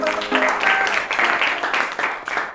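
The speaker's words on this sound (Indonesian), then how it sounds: "Tepuk tangan" Classroom applause for a student group during a teacher-training lesson in Indonesia: a short burst of clapping, fairly close and loud, with faint voices mixed in.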